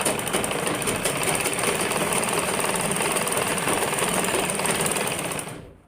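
A sewing machine runs steadily while stitching a kurti collar, a fast, even mechanical whir heard up close that continues unbroken and then cuts off at the very end.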